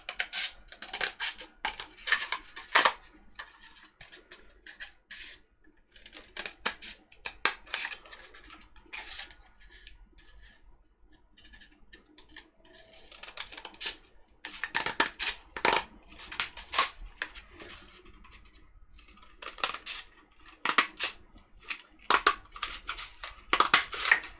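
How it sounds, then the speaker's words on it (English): Scissors snipping craft material for a costume armour build into short lengths, bursts of crisp crunchy cuts in clusters separated by quiet pauses, close and alone. "and then cut to lengths of 3 centimeters"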